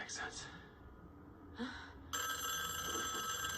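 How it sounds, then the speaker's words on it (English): A telephone rings in a drama scene, its steady electronic trill starting partway through and continuing to the end, fairly faint beneath quiet talk and background sound. "Now the phone is ringing."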